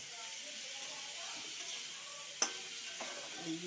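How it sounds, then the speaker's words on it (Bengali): Poppy seeds fry in a pan with ridge gourd peels and peanuts, giving a soft, steady hiss, punctuated by a single sharp clink of a spatula against the pan. "পোস্তটা দিয়ে দিচ্ছি। এবার আমি ভেজে নেব।"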